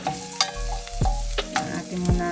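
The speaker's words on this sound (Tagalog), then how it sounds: "Ayan, hulog na natin mga kayuday ang ating bawang." Garlic dropped into a hot pan, about to be fried for salmon fillet, sets off a close, bright sizzle broken by a few quick stirring scrapes over a couple of seconds, with no voices.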